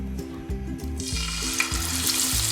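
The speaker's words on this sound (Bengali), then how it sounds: "তেলটা গরম হয়ে গেছে। এখন আমি বেগুনগুলো দিয়ে দিব।" Slices of eggplant for Bangladeshi begun bhaja drop into hot oil, setting off a loud, bright sizzle that rises suddenly partway through and then hisses steadily, heard close with no talking.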